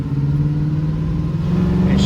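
A 1979 Pontiac Firebird Trans Am with a manual gearbox accelerates, its engine giving a loud, steady, close drone that climbs slightly in pitch.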